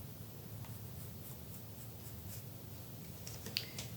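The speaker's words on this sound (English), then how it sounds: "we can draw this sewing line" A pen draws a sewing line on tote bag fabric, making a quiet, continuous scratchy rubbing close up, with a small tap near the end.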